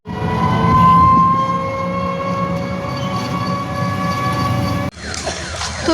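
A train at a railway station rumbles loudly and steadily with a sustained tonal horn-like whine, ending in an abrupt cut to a different noisy station ambience.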